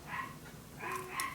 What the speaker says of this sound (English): Do we hear the youngest one nicely bark?